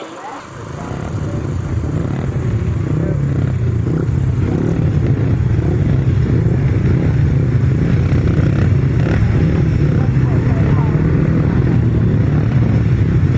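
Grasstrack motorcycles racing in a heat at a 2019 meeting, a dense, loud, continuous roar of engines with rough clatter, sustained throughout and blending into a steady wall of sound.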